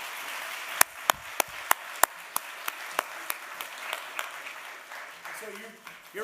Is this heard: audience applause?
yes